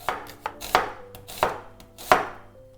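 A knife slicing onions into thin half-rings on a cutting board, about six or seven crisp, sharp cuts at an uneven pace, close by and alone.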